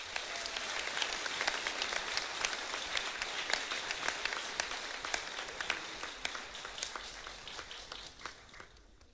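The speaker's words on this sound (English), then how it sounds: "Give these guys another round of applause" Honor graduates at a senior awards night get sustained applause from an audience, a dense crackle of many hands clapping at a steady level before it thins out at the end.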